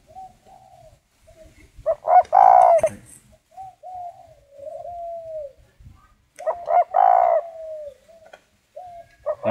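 A spotted dove coos nearby in repeated phrases, soft low notes followed by louder rolling bursts, with quiet pauses between calls.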